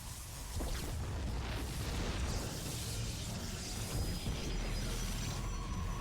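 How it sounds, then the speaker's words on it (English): StarCraft pylon being destroyed during a cannon rush, heard as a steady wash of low rumbling blasts and crunching impacts in a busy battle mix, with no clear single boom standing out. "Another pylon gonna fall."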